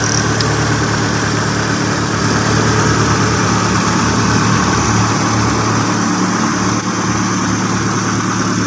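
Engine of an old custom semi-tubular Suzuki Jimny running at a steady idle, a loud continuous low rumble with a fine rapid pulse, close by, no talk.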